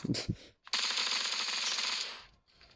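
A machine gun fires in a video game: after a couple of short thumps, one continuous rapid burst of gunfire rattles for well over a second, then trails off.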